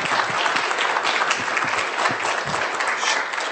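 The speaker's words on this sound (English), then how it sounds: "So perhaps we can just give you another hand of applause" An audience at a citizens' forum on cultural heritage conservation in Hamilton gives a steady, even round of applause, many hands clapping at once without a break.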